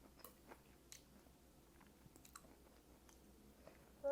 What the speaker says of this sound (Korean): 죄송해요. 먹느라 너무 맛있어요.